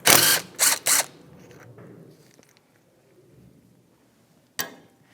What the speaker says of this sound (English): 13mm socket, and we'll take this bolt right out.